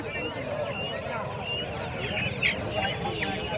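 Chickens cluck and call amid a busy country poultry market at Kundarapalli, with scattered bird sounds under nearby people's talk.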